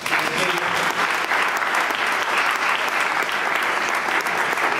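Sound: applause

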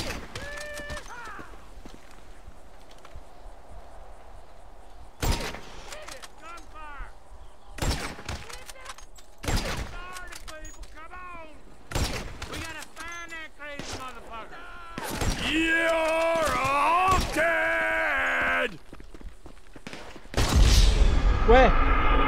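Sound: gunfire in the video game GTA V

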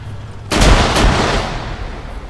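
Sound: grenade explosion in a World War II tank video game

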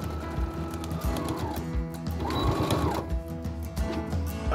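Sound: sewing machine top stitching fabric

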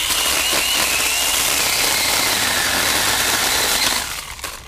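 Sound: Ryobi 18V pole saw cutting cedar branches

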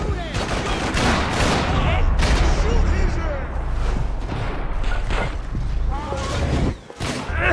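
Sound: gunfire from the video game Max Payne 3

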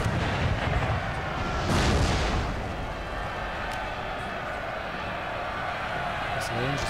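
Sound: artillery cannon fire in Napoleon: Total War video game

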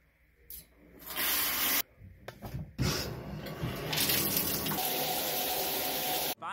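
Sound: shower running

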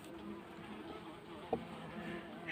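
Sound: bumblebees buzzing at opened beehive

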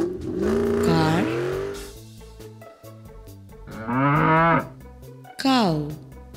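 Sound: cow mooing

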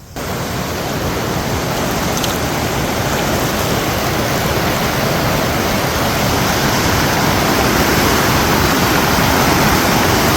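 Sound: rushing water at a waterfall

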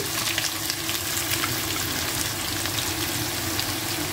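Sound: chopped onions frying in hot oil with cumin

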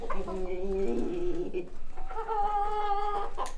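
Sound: chickens clucking

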